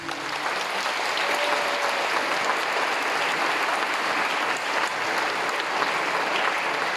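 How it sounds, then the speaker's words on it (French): Sustained audience applause fills the hall at a school choir gathering, a steady dense patter of clapping hands holding at an even level from start to finish with no voices over it. "On peut applaudir."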